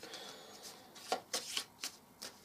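Combat cards from the Lords of Hellas board game being shuffled by hand, several quick riffling bursts in close succession, near and fairly quiet.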